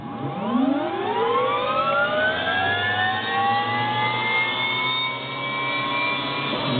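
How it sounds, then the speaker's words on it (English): An MD500 helicopter turbine engine being motored by its starter before fuel is introduced gives a loud, steady whine whose tones rise in pitch and hold, with a low rumble underneath throughout. "we'll have to motor the engine until we get it down to less than 150 before we introduce the fuel"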